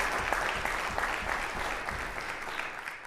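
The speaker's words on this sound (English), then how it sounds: "I think that deserves an applause." An audience at an announcement event in St. John's Church claps steadily, a dense, even wash of applause held at the same level throughout.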